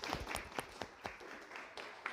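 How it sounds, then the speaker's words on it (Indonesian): Classroom applause for two students after a science demonstration on diffusion and osmosis, a brief patter of light, scattered hand claps that sounds fairly faint and thin. "Beri tepuk tangan untuk Arjun dan Azza"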